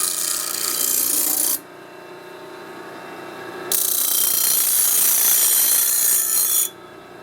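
A small 12-inch Harbor Freight disc sander bevels the edge of a metal header tube for a drag boat, grinding loudly in two bursts with a quieter whir between them.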